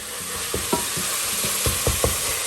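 Ground meat for bolognese sauce sizzles steadily in a hot frying pan while a utensil stirs and scrapes it in several quick strokes, close up.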